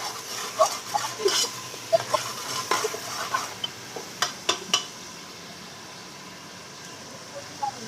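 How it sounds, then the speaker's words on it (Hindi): Beef dropped into frying garlic-ginger paste in a pot for nihari, giving a steady low sizzle with a run of sharp metallic clinks and stirring clacks, no talking. "मैं इसमें गोश्त ऐड करूंगी"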